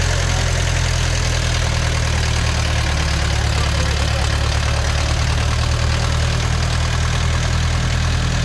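All-terrain vehicle crawling along a rut through a swamp, its engine a loud, steady, close low drone with a rough knocking edge that holds without a break.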